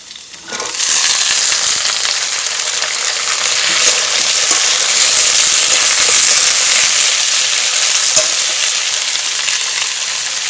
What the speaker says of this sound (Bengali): এবার সব সবজিগুলো কিন্তু আমি ভালো করে একটু ভেজে নেব